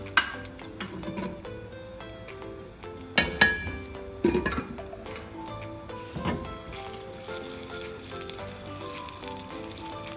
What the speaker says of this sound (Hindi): प्याज चीख रही है, चुटर पुटर आवाज़ें आ रही है आपको